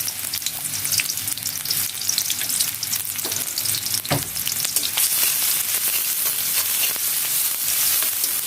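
Chopped onion frying in hot oil as it is stirred, a loud, steady crackling sizzle with scraping strokes, close by and without voices.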